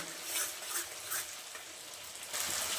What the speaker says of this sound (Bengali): আর এইভাবে আমি কিছুক্ষণ নেড়ে চেড়ে ভর্তাটা বানিয়ে নেব।